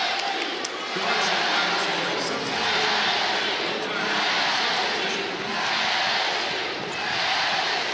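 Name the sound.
LSU basketball crowd cheering in arena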